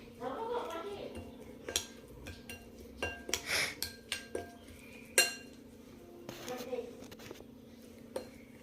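Spices and chillies are mixed into lemon juice for chilli pickle, giving a run of spoon clinks and scrapes against a bowl, irregular and close, with faint voice in the background.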